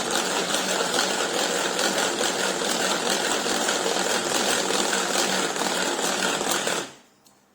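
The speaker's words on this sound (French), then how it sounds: "Et là, on va venir monter les blancs." A Tupperware Speedy whisk whipping egg whites gives a loud, steady mechanical buzzing whir close up that runs for about seven seconds, then stops abruptly.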